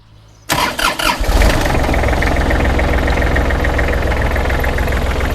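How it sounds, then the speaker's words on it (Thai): A Kubota L3408DT tractor diesel engine starts after a short quiet pause, with a few cranking bursts catching into a loud, steady, close idle that rattles evenly. "เดี๋ยวผมจะล่องนะครับติดเครื่องให้ชมนะครับ"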